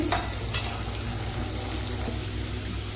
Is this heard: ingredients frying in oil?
yes